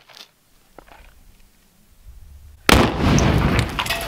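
A grenade delivered by an RC car detonates outdoors with a sudden loud blast after a couple of seconds of quiet ambient noise, followed by a sustained roaring rumble.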